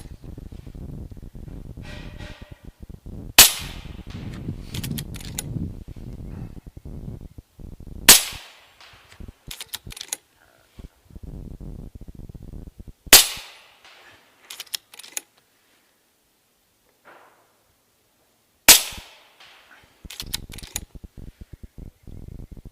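An RTI Prophet II .30 caliber rifle fires four sharp, loud shots several seconds apart at a 100-yard range, with quiet shuffling and handling noise between them.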